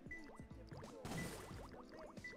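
Water rises in the video game Sonic Adventure 2, a quiet run of bubbly gurgling and filling sounds with a brief whooshing surge midway, and no voices.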